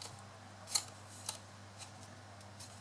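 Scissors snip through a section of a paper gift bag in a few quiet, separate cuts, each a short crisp click against near silence.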